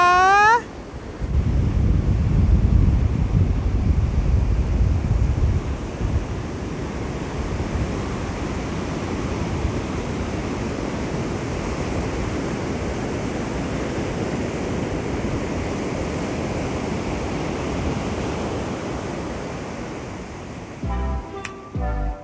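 Ocean surf and gusting wind at Karon Beach, Phuket, a steady loud wash of breaking waves with heavy wind rumble on the microphone, continuous throughout with no talking.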